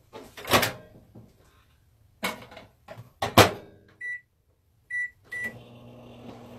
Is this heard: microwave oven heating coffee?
yes